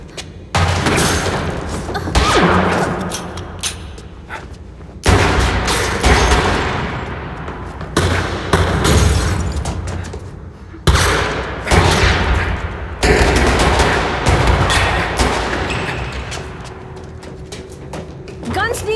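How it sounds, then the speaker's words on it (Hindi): Repeated bursts of gunfire crack out in clusters, loud and close, with shouting voices in Hindi mixed between the shots, in a Hindi-dubbed Hollywood action thriller film. "गोलियां चलाना बंद करो"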